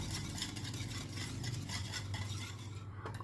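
A spoon scrapes and stirs turmeric and chilli powder into a kadhi pakora mixture in a bowl, producing a continuous close, soft swishing and clinking with no talk.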